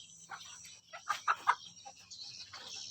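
Free-range village chickens cluck in a backyard coop, a cluster of short, close clucks rising to a few louder calls, then trailing off against a quiet outdoor background.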